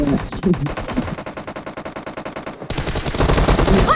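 Rapid automatic gunfire in the mobile game PUBG Mobile rattles on in loud, continuous bursts for the whole stretch, with a faint voice underneath.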